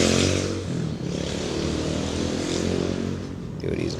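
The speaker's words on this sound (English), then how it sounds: "Yo, these bikes are crazy." Modded motorcycles with stage 2 tunes run at a steady, loud engine drone throughout, with a brief dip near one second and a slight rise in revving toward the end.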